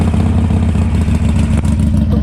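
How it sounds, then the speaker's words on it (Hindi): Harley-Davidson 883 motorcycle engine running loud and close, with a steady low idle rumble and a faint clatter throughout. "अब मैं स्टार्ट करता हूँ बाइक।"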